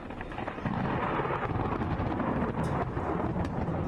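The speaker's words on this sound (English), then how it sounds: "And when lightning strikes," Thunder after a lightning strike rolls in as a sustained, heavy rumble that swells after a brief quiet start and holds loud for several seconds, with a few sharp crackles near the end and no speech.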